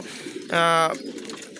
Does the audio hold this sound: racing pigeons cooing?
yes